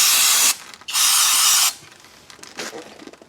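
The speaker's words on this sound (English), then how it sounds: "spray these brake pads down a little bit" Two long bursts of an aerosol spray hissing up close onto the rear parking brake pads of a 2018 Nissan Altima, a short gap between them, then a quieter brief spritz and some faint handling noise.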